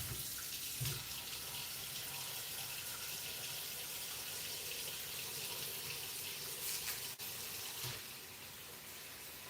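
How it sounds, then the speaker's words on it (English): Kitchen tap running while rice is rinsed, a steady broadband gush of water with a few brief splashes and shifts in the flow, no voices. "We're going to rinse our rice."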